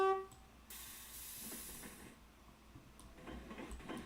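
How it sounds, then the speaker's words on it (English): A Japanese commuter train shoots past close by, a sudden loud hissing rush of air and rail noise that swells, holds for over a second, then fades into a lower rumble. "the noise of the Japanese commuter train that just shot past us"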